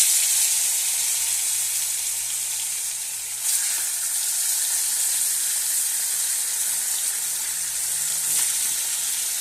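Bata fish sizzling in hot oil with a little turmeric in a kadai, a steady close frying hiss that holds evenly throughout with a couple of brief louder spits.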